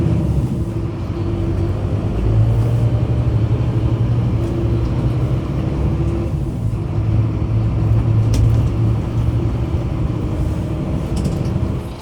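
A lorry drives down a road, its engine giving a steady, close, low rumble with mild fluctuations throughout and no voices.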